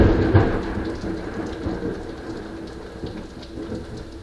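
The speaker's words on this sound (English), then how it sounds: "You guys hear the thunder?" Loud, low thunder rumbles up close alongside steady rain, starting with a heavy crack and then rolling on and slowly fading.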